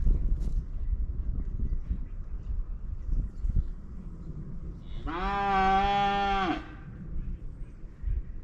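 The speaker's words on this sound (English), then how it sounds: "cow's bugging me over here." A cow lets out one long, loud, close moo lasting over a second, set against quiet outdoor background noise and faint scuffs on a farm where firewood is being split.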